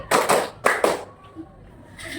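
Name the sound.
hands clapping four times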